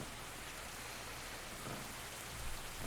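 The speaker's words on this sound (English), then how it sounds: "Some cars, some light rain." Light rain falls in a cozy café scene from the Coffee Talk video game, a soft, steady hiss of drops with faint low rumbles beneath, quiet and unbroken, with no talk.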